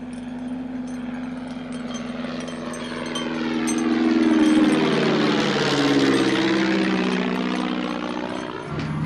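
A spotter plane's engine drones and swells, its pitch shifting as the loud, steady hum builds toward the middle and stays strong, with no voices over it.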